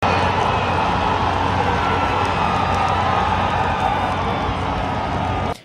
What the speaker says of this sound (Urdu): تو پورے اسٹیڈیم سے ایک دفعہ شور اٹھتا ہے